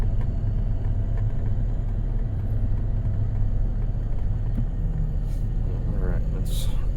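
A farm vehicle's engine idles steadily at close range, a continuous low rumble that runs unbroken throughout.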